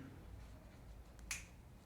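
A single crisp finger snap, close and clear, standing alone against a quiet background with no talking.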